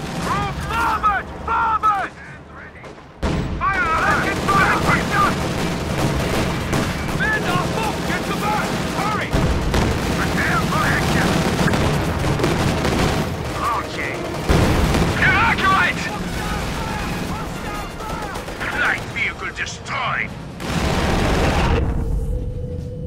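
Battle din from the video game Company of Heroes 2, with dense gunfire and heavy booming artillery rolling continuously under shouted unit commands and voices throughout.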